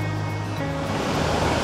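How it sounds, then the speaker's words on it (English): Foster Falls waterfall plunging into its pool along a Tennessee trail, a steady broadband roar of falling water filling the scene with no pauses. "overlooks the waterfall and the plunge pool, and it is absolutely beautiful"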